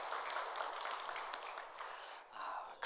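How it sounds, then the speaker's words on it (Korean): Church congregation applauding to celebrate a young member's birthday: soft, steady clapping for about two seconds, a brief lull, then clapping picks up again. "우리 축하하고 격려의 박수 한번 드리도록 하겠습니다"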